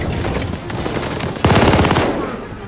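A machine gun from Call of Duty: Vanguard fires a short, loud, rapid burst of shots partway through, set against a background of battlefield noise.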